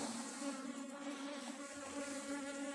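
Bees swarm around an open hive and keep up a steady, dense buzzing that sounds close and fills the whole moment, with no voices.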